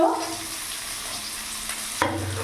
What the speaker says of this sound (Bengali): গাজরও দিয়ে দিলাম আমি। এবার ভালো করে নাড়াচাড়া করব।